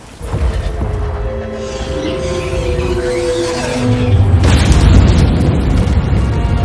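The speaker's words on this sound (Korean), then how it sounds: "행성이 폭발하자 형체가 사라지는 에고" A planet explodes in a Marvel film, a loud, sustained rumbling boom that swells and deepens, with a heavy roar building toward the end and no speech.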